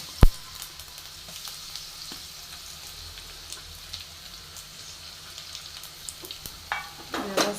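Garlic with cumin roasts in a pan, giving a steady low sizzle and crackle throughout, with a sharp clink at the start and some utensil scraping and clatter toward the end.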